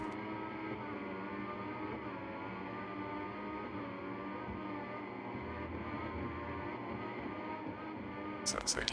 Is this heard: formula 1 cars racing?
yes